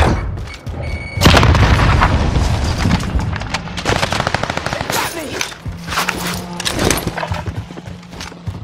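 A frag grenade is thrown in Call of Duty Warzone on Rebirth Island. It goes off amid loud, nearly continuous gunfire and heavy booming blasts, with a dense roar of battle throughout.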